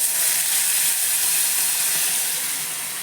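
Oil heated with asafoetida in a home kitchen sizzles loudly as ingredients go into the pan, a steady bright hiss that holds for the whole stretch and eases slightly at the end.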